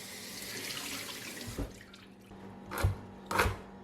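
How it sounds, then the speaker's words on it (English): Dandelion roots are rinsed under a running kitchen tap. Close water hisses and splashes steadily, then the flow eases, with a few louder splashy bursts as the roots are moved through the stream. "give the roots another rinse."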